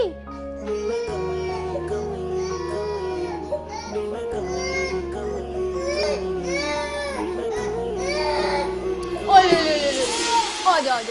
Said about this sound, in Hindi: लेकिन मेरा बच्चा रो रहा है।